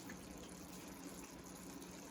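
Water poured from a measuring cup into a pan of turkey taco meat, a soft continuous gushing splash, close and quiet, with no talking.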